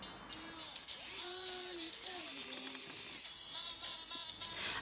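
A power tool drives screws into a camper van awning rail, giving a faint, whining motor tone that rises and falls in short bursts, close by in a quiet setting.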